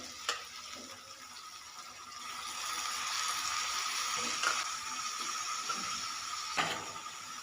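Fenugreek leaves fry in oil in a kadhai, a soft continuous sizzle broken by a few sharp clicks and scrapes of stirring, fairly close, with no one speaking.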